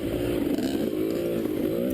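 Dirt bike engine droning steadily and close while riding a rocky, root-strewn trail in Evart, Michigan, with a continuous rumbling tone that rises and dips slightly, no breaks or talk.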